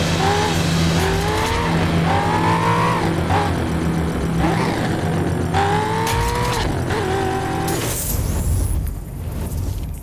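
An off-road dirt car in the racing game The Crew, set on Miami streets, roars continuously with repeated rising engine revs, gear shifts and brief tire squeals, loud and close, with a harsh burst near the end.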